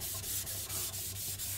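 VG10 steel knife sharpened on a whetstone, soft rhythmic scraping strokes back and forth, faint and close, about six even passes with no talking.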